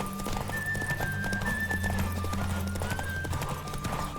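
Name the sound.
horse galloping in video game The Witcher 3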